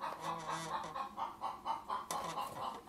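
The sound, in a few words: hen clucking after laying an egg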